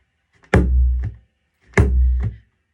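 Bodhrán frame drum struck twice, each a deep booming low tone ringing out for about half a second before a soft tap cuts it off, loud and close with no voices.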